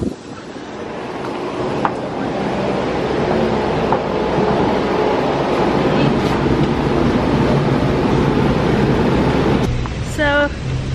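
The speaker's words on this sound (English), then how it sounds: "Just got off of the light rail." A light rail train rumbles steadily close by with a broad rolling roar and faint rail clatter, and a brief high chime sounds near the end.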